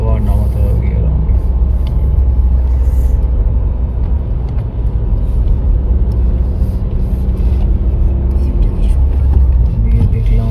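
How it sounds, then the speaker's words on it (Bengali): A Mahindra Scorpio N cruises in fourth gear on a mountain road, its engine making a loud, steady low rumble with road noise inside the cabin, and a voice talks over it. "4th গিয়ারে চালাচ্ছি।"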